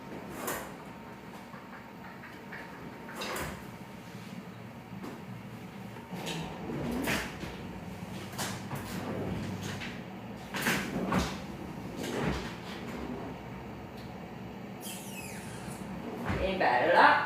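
In a home kitchen, drawers and cupboards are opened and shut during a search for baking paper, producing scattered knocks, slides and thuds at close range, with a person talking intermittently.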